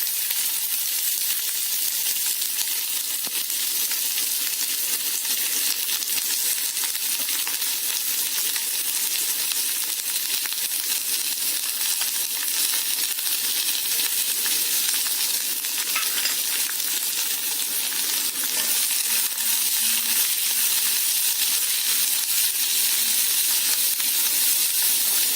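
Sliced onion sauteing in hot oil with mustard seeds, a loud, dense, continuous sizzle and crackle heard up close, steady for the whole stretch with no talking.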